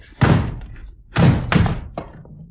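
Three heavy thuds against a locked door as someone shoves hard, one then two in quick succession, followed by a lighter knock, close and forceful.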